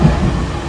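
Steady low rumble and rattle inside a moving passenger train, loud and continuous for a brief moment, with no talking.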